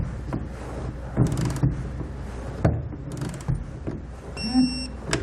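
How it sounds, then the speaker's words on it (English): Torque wrench tightening the clamps of a soft roll-up tonneau cover on a 2019 Chevrolet Silverado, giving a few close mechanical clicks and ratcheting snaps over a steady background hum. "we can go back and finalize the torque on all of our clamps"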